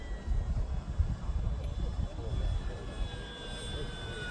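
A model Corsair warbird airplane at full throttle, a continuous buzzing engine drone with a faint high whine, heard from the ground at a moderate distance, while people talk briefly nearby.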